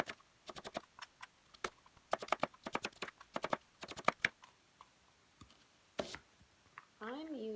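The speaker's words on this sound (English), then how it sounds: "So I'm going to slice the onion." A knife slices onion on a cutting board for Japanese curry, making a series of crisp, close, irregular chops in quick clusters, with brief pauses between bursts and a short sizzle-like sound near the end.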